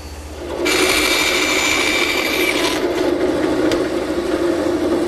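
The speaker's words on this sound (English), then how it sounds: "I'm just raising the blade slightly to make the shoulder cut at each edge." A table saw runs up and cuts tenon shoulders at the edges of wooden chair stretchers, a loud close whine with a bright blade-cutting burst in the middle that eases back to steady motor drone.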